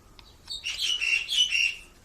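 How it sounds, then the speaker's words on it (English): Loud birds chirp in a quick burst of high, bright tweets and trills lasting just over a second, close and clear, after a couple of faint clicks. "Some loud ass birds, man"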